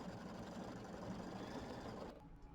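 An embroidery machine stitches leaves on a small quilt, giving a rapid, steady mechanical chatter at close range.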